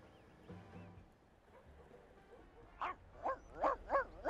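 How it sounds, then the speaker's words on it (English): A dog barks in The Sims 2, a run of four or five sharp, evenly spaced barks arriving in the last second and a half after quieter game ambience, fairly close and clear. "Is that our dog? Barking at people?"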